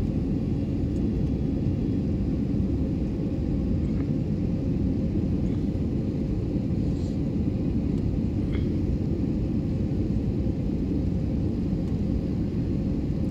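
Steady low rumble of an airplane cabin as the plane descends toward the airport to land, a constant broadband engine and airflow drone that holds level throughout with no talk.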